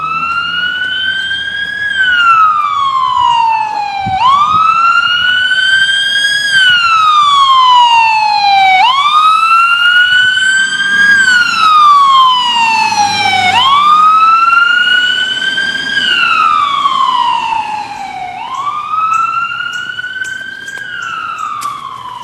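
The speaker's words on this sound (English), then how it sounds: "It's an ambulance. And it's actually going to pass us, I think." An ambulance siren wailing repeatedly as it approaches and passes on a city street, each loud rising-and-falling sweep lasting a few seconds over a low road rumble, fading slightly near the end.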